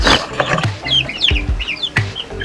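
Chickens cluck loudly and close by, with short throaty calls mixed with the thin, high peeping of chicks throughout.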